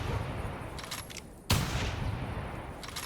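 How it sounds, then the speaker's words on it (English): A rifle fires at a whitetail deer in a hunting video game set at Loggers Point, a single sharp, loud report that decays over a steady outdoor ambience. "I'm gonna go ahead and take a rifle shot."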